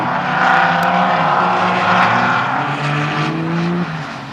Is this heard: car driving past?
yes